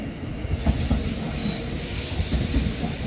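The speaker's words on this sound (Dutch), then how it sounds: "een Flirt 3XL van Abellio Rail." A Stadler Flirt 3XL train operated by Abellio Rail passes close by on a line toward Wuppertal, giving a steady loud rumble of wheels on rails with hissing and faint squealing, and no voices.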